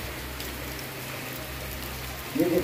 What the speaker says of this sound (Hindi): बारिश काफ़ी तेज़ लग गई है